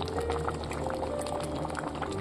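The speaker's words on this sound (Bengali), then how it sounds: "ঘুগনিটা কিন্তু আমার ফুটে উঠেছে।" Ghugni made with chickpeas and mutton fat bubbles in a pot, a steady low burbling boil with small pops throughout, fairly quiet and with no voices.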